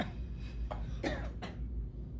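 A person coughs at the end of a breathing exercise: a few short, close throat-clearing coughs in quick succession, over a low room hum.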